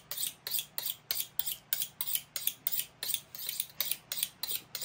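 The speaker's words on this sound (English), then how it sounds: "He's going to cut them in half." Knife cutting food in half while preparing a game-day tailgate meal, a steady run of about a dozen crisp, evenly spaced slicing strokes, close and fairly quiet, with no talking.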